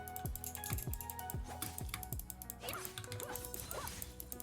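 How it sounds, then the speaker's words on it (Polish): A computer keyboard being typed on during a League of Legends game, with a run of close, crisp key clicks mixed with game sounds and music. "A prawą klikam klawisze."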